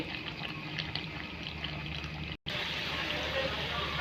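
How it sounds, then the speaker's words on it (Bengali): Broth pours into a meat and papaya curry in a pan, a soft continuous watery trickle heard up close, broken by a brief cut partway through. "মাংস কষানি শেষ এখন ঝোল দিয়ে দিব"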